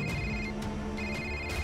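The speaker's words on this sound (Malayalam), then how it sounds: "പെട്ടെന്ന് മെഹുലിന് ഹാക്കർ ആദിയുടെ കോൾ വന്നു." An incoming call rings on a phone as a repeating electronic ringtone, short tonal bursts pulsing at a steady rhythm, clear and alone.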